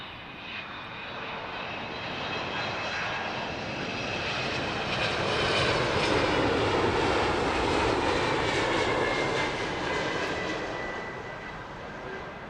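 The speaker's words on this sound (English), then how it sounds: "This is coming in from New York, 767-300 ER." A Boeing 767-300ER arriving from New York lands at Heathrow. Its engine roar swells steadily, peaks, then eases off in a long, continuous rush with no talk.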